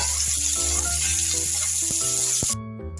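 Chopped onion with a little salt fries in a pan with a loud, close sizzle and light stirring scrapes, then drops away sharply just before the end.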